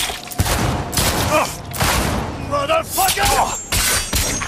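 Rapid gunfire in the PS5 video game Cyberpunk 2077, a dense fusillade of loud, close shots and impacts packed across the moment, with shouting voices over the battle.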